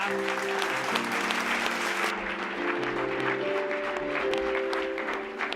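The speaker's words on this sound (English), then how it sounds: "please, a big round of applause for Julia" At a comedy night, an audience gives Julia a warm round of applause, steady clapping that carries on for several seconds while sustained musical tones play underneath.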